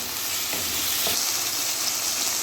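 Okra sizzles steadily and loudly in a pan for bhindi masala as onion is added alongside tomato and green chillies, with a brief stir disturbing the hiss.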